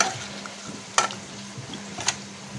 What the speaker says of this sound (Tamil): இந்த மஷ்ரூம் பிரியாணி நல்லா கொதிக்குது பாருங்கள்